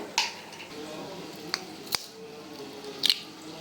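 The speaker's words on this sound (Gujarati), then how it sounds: "ડુંગળીવાળા વાટકામાં આપણે ઈંડા ફોડી નાખીએ" Eggs are cracked into a bowl of chopped onions, heard as a few sharp, separate cracks and taps spaced over a few seconds against a quiet background.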